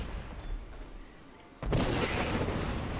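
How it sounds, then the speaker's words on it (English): After a quiet stretch, a sudden loud blast in the video game Skyrim erupts and rolls into a sustained rumbling roar that fills the rest of the moment. "Yeah, there's the explosion."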